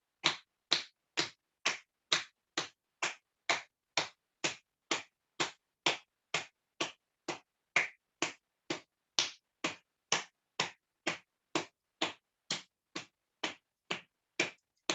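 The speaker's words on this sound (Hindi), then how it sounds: "और फिर से वही ढोलक ताली" Rhythmic dholak-style hand clapping during a yoga exercise, crisp evenly spaced claps at roughly two per second, repeating steadily for fifteen seconds against near silence.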